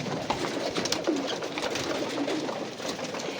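Jacobin fancy pigeons coo repeatedly, soft throaty rolling calls overlapping close by against a dense, noisy background.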